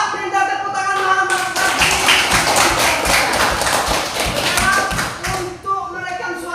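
Students in a classroom clapping together for a few seconds, a dense burst of hand claps with voices heard before and after.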